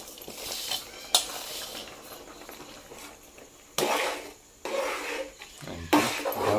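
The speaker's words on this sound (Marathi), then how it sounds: "आणि ढवळा करायचं." A spoon scrapes and stirs cucumber dhondas batter in a cooking pot, with soft rasping strokes and a few louder scraping pushes, close up and without talk.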